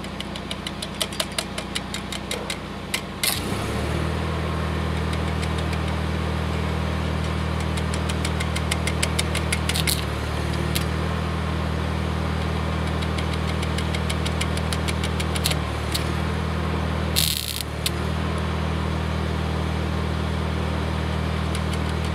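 A tractor engine idles nearby during a workshop job fitting pallet-fork brackets to a three-point forklift. It gives a loud, steady rumble with a few sharp clicks and brief shifts in tone, and no one speaks.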